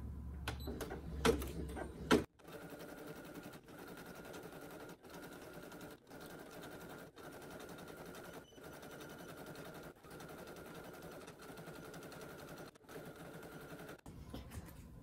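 An embroidery machine stitches an in-the-hoop needle minder, sewing letters with a fast, even mechanical chatter broken by short regular pauses, close and steady after a few louder clunks at the start.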